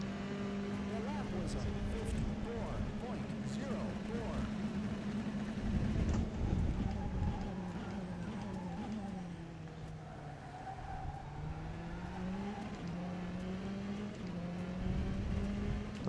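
A race car lapping in the rFactor 2 driving game, its engine droning steadily and rising and falling in pitch through gear changes and corners for the whole stretch, with a person talking over it at times.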